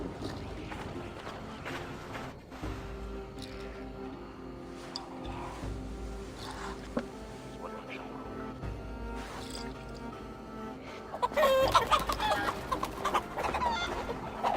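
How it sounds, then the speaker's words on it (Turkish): Chickens cluck and squawk in Assassin's Creed Valhalla amid in-game ambience and movement, with a louder flurry of flapping and clucking near the end of the run, fairly close but mixed into the game's background sound. "Tavukları kovalıyorlar."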